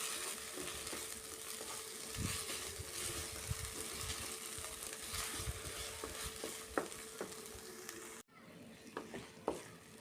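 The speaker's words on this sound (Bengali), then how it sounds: "ডিমের সাদা অংশ ঢেলে দেবো দিয়ে অনবরত নাড়তে থাকবো যাতে এটা ভর্তার সাথে ভালোভাবে মিশে যায়" Mashed bean bhorta being stirred with egg white in a pan, a low frying sizzle with intermittent scraping and clinking stir strokes, quiet and close, briefly cutting out near the end.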